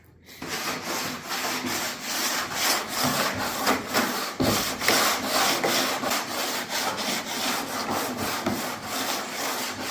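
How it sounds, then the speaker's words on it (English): Block sanding a guide-coated panel marked with purple guide coat, producing a close, steady abrasive rasp. Rhythmic back-and-forth strokes repeat for about ten seconds with no voices. "It makes it so much easier to sand."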